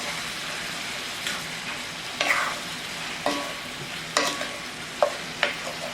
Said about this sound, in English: you just want to saute these up, make sure that they're done